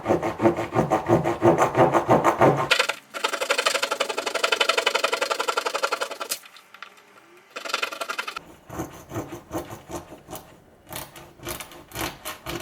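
Kitchen knife sawing back and forth through a hard plastic clothing security tag, a dense scraping, rasping rhythm close up, with brief pauses and a quieter stretch before the cutting resumes.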